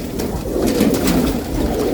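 Pigeons coo close by in soft, repeated low murmurs that overlap continuously, with a few faint rustles and no talking.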